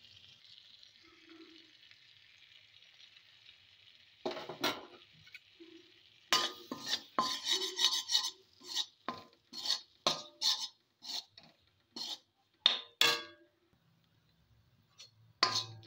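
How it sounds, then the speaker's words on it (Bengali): Flour stirred into melted butter in a pan for a white pizza sauce, a string of short, close scraping and clinking strokes after a quiet hissy start, with no voices. "একটু ভেজে নেব ময়দার কাঁচা ভাবটা কাটানোর জন্য"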